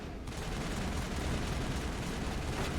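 Gunfire in Mass Effect 1, a video game, heard as a dense, steady wash of rapid shots, fairly faint and unbroken for a few seconds, with no talking.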